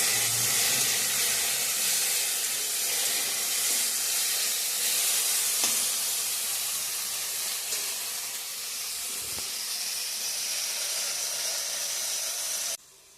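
Garlic, onion, dry red chilli and black cumin seeds fry as a tempering in hot oil, making a loud, steady, hissing sizzle that runs unbroken for about thirteen seconds before cutting off.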